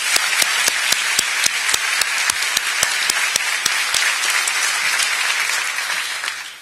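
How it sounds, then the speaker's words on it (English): An audience at a children's mental health awareness event applauds loudly and steadily, dense clapping from a large crowd with a few sharp individual claps standing out, then tapering slightly at the end. "Can we give her another round of applause?"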